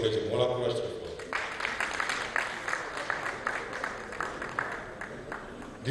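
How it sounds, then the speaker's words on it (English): An audience at a policy dialogue applauds a conference speaker with sustained, fairly dense clapping that starts after a brief stretch of voice and then continues evenly at moderate volume. "Let's encourage him. One applause to him."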